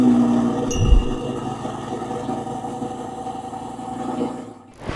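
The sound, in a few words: Lamborghini Huracan Evo Spider engine roaring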